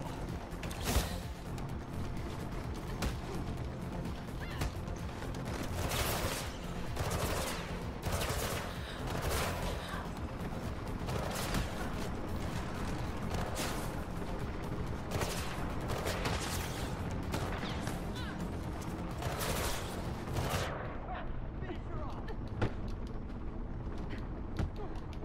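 Enemy gunfire in Mirror's Edge Catalyst, repeated loud bursts and single shots cracking at irregular intervals over a constant game background, with occasional voice.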